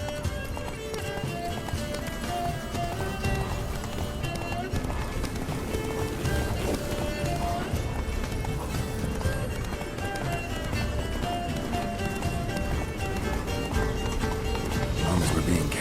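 Roach, Geralt's horse in The Witcher 3: Wild Hunt, gallops in a steady, driving rhythm of hoofbeats, dense and continuous, mixed under game music and talk between the characters.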